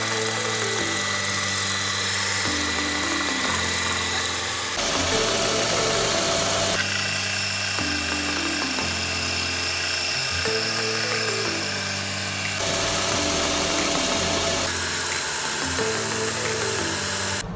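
A woodturning lathe and sander shaping a coaster made from garden twigs, giving a loud, steady mechanical whine with pitch shifts and abrupt changes in motor tone every couple of seconds, with no talking.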